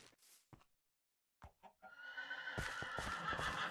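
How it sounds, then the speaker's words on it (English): Horse whinnying in the video game Minecraft, a loud, drawn-out neigh that follows a few short, soft sounds and quiet gaps. "I found a black horse."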